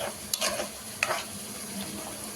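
Beetroot cooking with milk and khova in a pan makes a soft, quiet sizzle, with a few brief scraping stirs near the start and middle.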